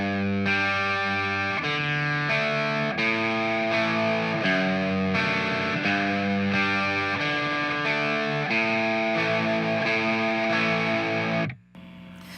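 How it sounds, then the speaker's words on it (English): Heavily distorted electric guitar strums a slow progression of sustained power chords, each ringing out before the next change, loud and up front with no talk, then cut off abruptly near the end. "When you're playing with heavy distortion, you have to make sure that all of the notes sound clear"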